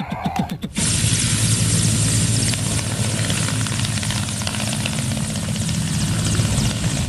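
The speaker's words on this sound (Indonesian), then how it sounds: "helikopternya bagus betul. Ini juga kita take off." A loud helicopter taking off roars steadily close by, with rotor chop pulsing through a broad rushing engine noise that starts abruptly after a brief rustle.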